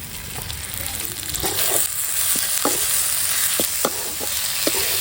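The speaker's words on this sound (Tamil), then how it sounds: "வெங்காயம் நல்லா வதங்கிச்சுனா இதுலேயே வந்து நம்ம தக்காளி போட்டுக்கலாம்" Onions and tomato fry in a pan with a constant close sizzle, while a spoon scrapes and stirs in short, scattered strokes over the hiss.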